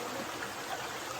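River water flows steadily at a riverside camp resort in Bulacan, a continuous broadband rushing wash, fairly quiet and unbroken, with no voices heard.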